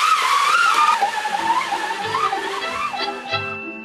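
A machine plays car sound effects, a high, wavering squeal of tires with engine tones that rise and fall, loud and close, fading out at the end.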